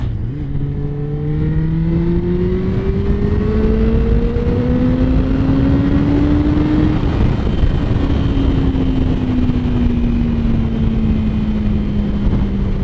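A motorcycle engine revs up in one long, steadily rising pull to about 8,500 rpm, loud and close, then eases slightly as the pitch levels off.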